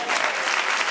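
A church congregation bursts into a short, dense round of applause, many hands clapping together at once for about a second.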